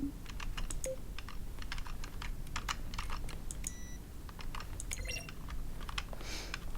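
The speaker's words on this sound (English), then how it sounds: "Each sound is a mix of a keyboard stroke and a synthesized tone." Button presses in The Stanley Parable, each a keyboard stroke blended with a synthesized tone, sound as a rapid, irregular run of close clicks with faint tonal blips scattered throughout, no voices.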